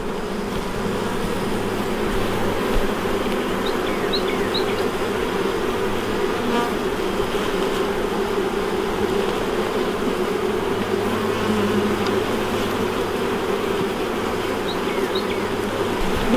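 Honey bees buzz in a steady, loud, continuous drone during a hive inspection, with individual bees droning close by now and then.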